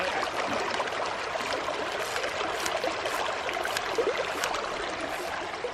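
Water is pumped by hand through a backpacking water filter into a hydration pack outdoors, a steady trickling, splashing hiss with faint rhythmic squeaks from the pump.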